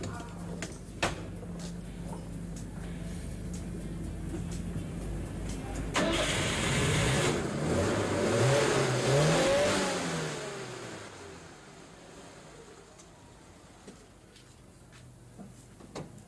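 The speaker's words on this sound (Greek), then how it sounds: "Ωραία, καλά φυσάει η μηχανή." A car engine at an auto repair shop cranks and catches, then revs loudly for a few seconds before dropping back to a quieter idle, with low background noise around it.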